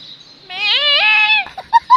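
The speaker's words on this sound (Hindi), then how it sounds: "यहाँ पे एक बकरी है, वो हर वक्त चिल्लाती रहती है" A single goat lets out a loud, close, wavering bleat lasting under a second, followed by a couple of short sharper calls.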